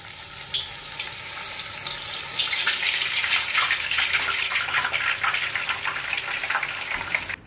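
Dry masala kachori frying in a pan of hot oil, a dense, continuous bubbling sizzle that swells louder after the first couple of seconds and stays steady, close up with no voices.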